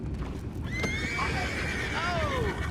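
A horse whinnies clearly in the Red Dead Redemption video game, a rising and falling neigh followed by a second shorter call, over a low ambient bed with faint hoof sounds.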